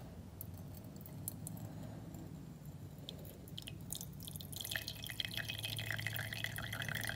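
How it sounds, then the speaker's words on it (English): Liquid decanted off a copper precipitate in a chemistry reaction, with soft trickling and dripping that grows louder and brighter toward the end, close and continuous, with light glassware clinks. "So I'm going to try to decant this off."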